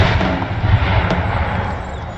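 Cannon fire during an Empire: Total War battle, a dense, continuous roar of booming artillery blasts blending into a loud rumbling wash, heard up close without clear pauses.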